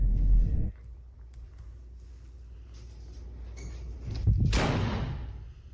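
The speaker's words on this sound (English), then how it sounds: "the door behind him slams shut on its own." A door slams shut on its own in a quiet interior, one loud thud landing after earlier low rumbling and a heavy opening impact, then fading into a hushed room.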